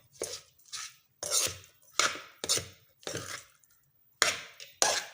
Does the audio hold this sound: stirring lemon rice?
yes